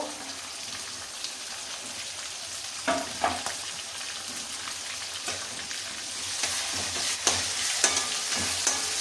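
Tomatoes fry in hot oil in a pan with steady sizzling, broken by occasional scraping stirs and spatula knocks that grow a little louder toward the end.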